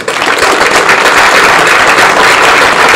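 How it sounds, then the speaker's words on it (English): Applause from a graduation ceremony audience for the salutatorians, a dense, steady wash of many hands clapping at close range, loud and continuous throughout with no talk. "can give them a round of applause, please"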